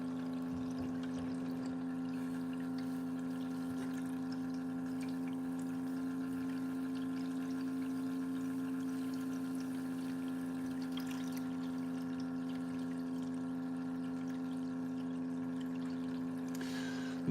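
Water flows steadily through a gold prospecting high banker, a constant rushing wash over a strong, even pump hum, with no voices, close and unbroken throughout.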